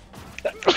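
A single short sneeze bursts out at the end, sharp and close, after a brief quieter breathy intake.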